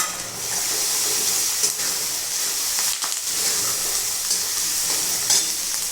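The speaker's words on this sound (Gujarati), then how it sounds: "હવે તેમાં હું લીમડી એડ કરું છું।" Curry leaves hit hot oil already cooking a ginger-chili-garlic paste for vegetable masala rice, setting off a loud, steady sizzle and steam hiss with brief crackling bursts throughout.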